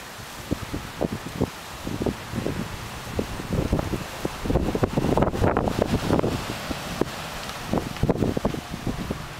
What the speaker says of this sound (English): It's getting windy all of a sudden.